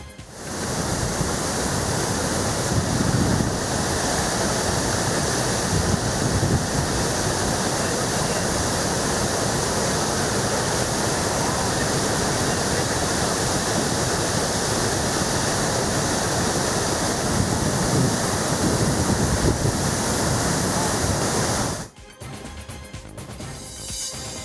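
Water released from the KRS dam into the Kaveri river roars continuously as a dense, loud rushing flow for over twenty seconds, then drops abruptly to a quieter hiss near the end.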